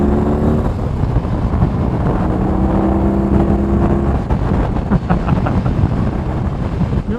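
A 2022 BMW R18 motorcycle engine revved out on the road in Palm Springs heat, a loud, steady, close engine roar with wind buffeting throughout.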